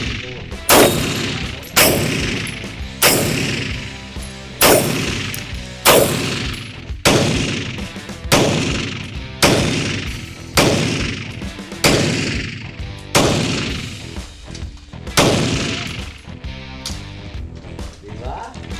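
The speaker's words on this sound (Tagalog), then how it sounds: "Firing." A custom gun fires at an indoor firing range, giving about a dozen loud, sharp gunshots at an irregular pace, each with a short ringing decay.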